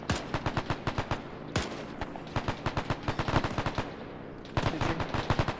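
Rapid bursts of machine-gun and rifle fire ring out in a World War II shooter game set at the Battle of Tarawa, loud, dense and continuous, with a short pause near the middle before the volleys resume.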